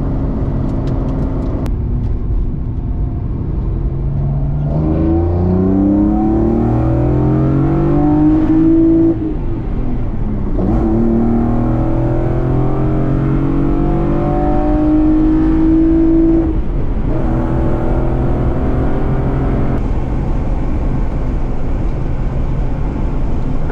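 A decatted BMW E36 325i with individual throttle bodies accelerates through the gears, its loud exhaust rising in pitch repeatedly with brief dips between shifts, close and dominant throughout.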